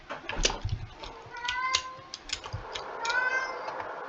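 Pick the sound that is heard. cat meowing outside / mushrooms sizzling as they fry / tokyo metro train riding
cat meowing outside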